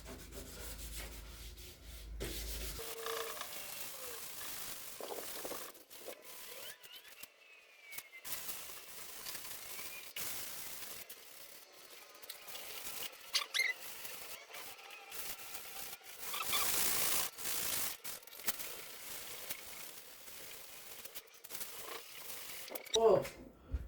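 Body panels on a Volkswagen Golf are wet sanded by hand before primer, with soft, close, repeated rubbing strokes and faint watery scraping in irregular bursts, quiet overall with pauses between passes.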